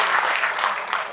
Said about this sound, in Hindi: आपकी ये तालियां मैं अपने साथ जालंधर लेके जाने वाली हूँ